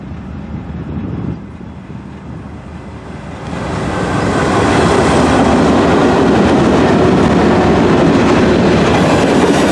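An empty Norfolk Southern coal train led by GE C44-9W locomotives rolls past loudly, its rumble building after a few seconds into a steady, continuous roar of wheels and cars with rhythmic clatter.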